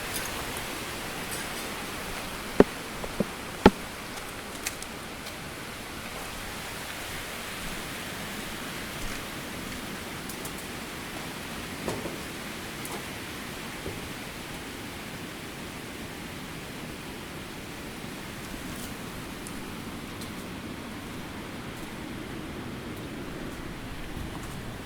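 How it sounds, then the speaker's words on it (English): Heavy rain pours down in the Amazon rainforest as a steady, dense hiss that holds evenly throughout, with a few faint knocks and taps near the start. "Here comes the rain from the sky now, water from the sky."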